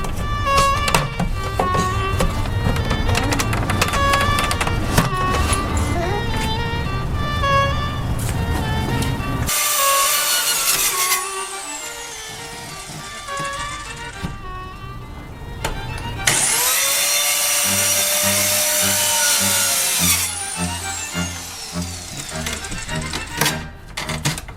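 A saw cuts through the wood of an old dresser, rasping in loud continuous strokes, broken by short pauses and a few harsher bursts of cutting.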